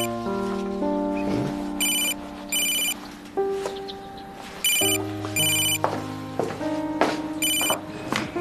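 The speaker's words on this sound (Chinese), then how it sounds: "电话。" A telephone rings in a home in a television drama, repeating electronic ringtone bursts in a steady pattern over a low background of melodic tones.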